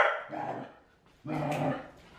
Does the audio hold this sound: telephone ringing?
no